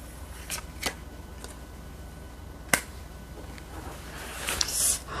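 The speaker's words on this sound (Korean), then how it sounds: "카드 한번 뽑아볼게요" Tarot cards being shuffled and drawn by hand, soft papery riffles with a few sharp snaps and flicks, the last a louder burst of shuffling near the end, close and fairly quiet, with no talking.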